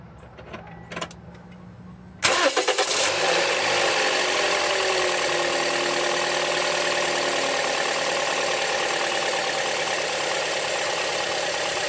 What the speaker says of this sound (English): you can go ahead and crank it up.